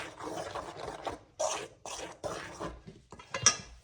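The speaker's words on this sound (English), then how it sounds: "So now I'm just going to give that a mix" Pound cake batter being mixed by hand in a bowl, a series of short scraping and rubbing strokes with a brief metallic clink near the end, quiet and close, with no talking.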